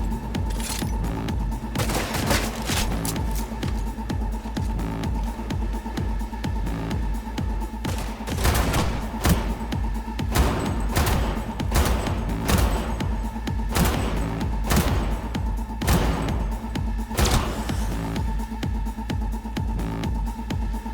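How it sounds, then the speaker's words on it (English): Cyberpunk 2077 combat with a grenade explosion and gunfire: scattered sharp gunshot bursts and heavy thumps over a steady low hum of music and ambience, moderately loud throughout. "Looks like that grenade took out a bunch of them."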